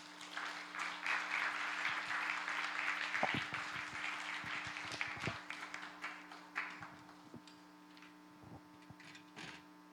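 A church congregation applauds steadily, a dense wash of clapping that swells and then thins out into scattered claps, with a low electrical hum underneath.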